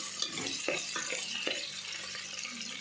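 Green chillies and onion pieces sizzle softly in a pan for drumstick sambar, a faint steady hiss with a few sharp clicks of stirring.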